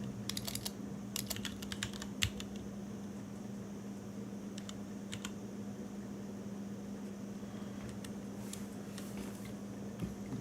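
Bursts of typing on a computer keyboard, sharp clustered clicks in short runs separated by pauses, heard close over a steady hum of room or fan noise.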